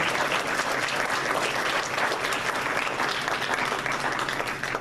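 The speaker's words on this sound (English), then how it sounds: "please express your thanks and with your applause" Steady applause from an audience thanking a speaker at a community talk about Houghton Point history, dense and sustained throughout with no voices standing out.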